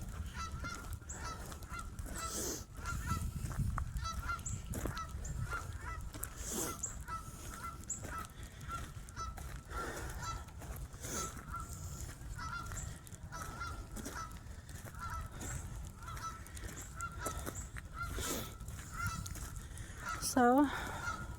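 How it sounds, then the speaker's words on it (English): Two geese honk faintly in the distance along a rainy outdoor trail, a few scattered calls with a louder honk near the end over soft rain and wind noise. "Oh, there's those two geese."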